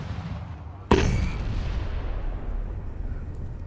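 A bazooka rocket blast in a horror tale: one sudden loud, sharp explosion hits about a second in, then a low rumbling boom rolls on and fades slowly over a steady background.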